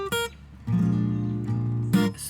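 Electric guitar playing a blues piece in a lesson setting: a plucked note, then sustained chord tones with a sharp attack near the end, close and clear with no talking.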